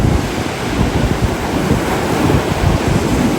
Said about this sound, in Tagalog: Yan, lakas ng alon dyan.